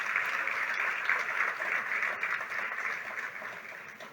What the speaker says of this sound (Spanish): Dele el aplauso fuerte al Señor.